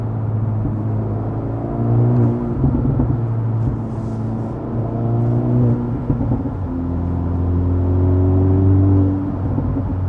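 An Acura Integra Type S with an MBRP exhaust and its valves open rumbles and burbles while driving, loud and close, engine tone rising and falling with pops and crackles on deceleration, and no talking.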